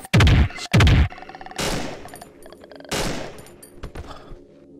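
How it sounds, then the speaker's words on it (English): A VP-70 three-round burst pistol fires in Cry of Fear, with two loud close bursts up front, then more shots and clattering mechanical handling sounds that fade toward the end. "A 3-round burst pistol."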